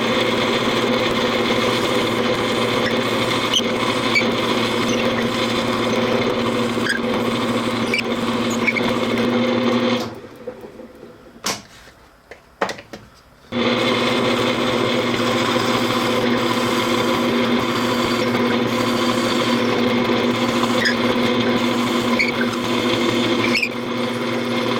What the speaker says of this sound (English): in the middle of each one we're going to drill an 11/16 diameter hole, and it's going to be 4 inches deep